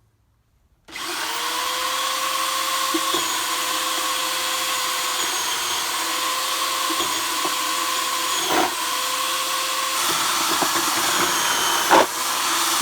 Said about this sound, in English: That's really working with the drill stabilizer.